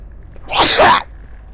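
One loud, close sneeze, a sharp explosive burst standing out against a quiet background.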